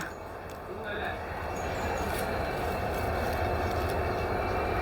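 A train rumbles past right outside a house, a broad, steady roar that swells and holds as the carriages roll by.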